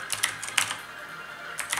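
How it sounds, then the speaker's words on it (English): Clicky keystrokes on an Aula Demon King mechanical keyboard during gaming, a few quick clustered presses with pauses between, close and moderately quiet with no talking. "So I'm playing a video game with this keyboard."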